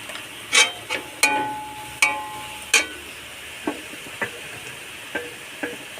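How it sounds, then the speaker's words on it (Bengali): Onion, garlic, chili and turmeric frying in a pan give a low background sizzle under a series of sharp metallic clanks and scrapes from stirring, loud at first and then lighter and evenly spaced. "পেঁয়াজ রসুন ভাজা হয়ে গেছে, তুলে রাখা লঙ্কা হলুদ একসাথে দিয়ে দিলাম"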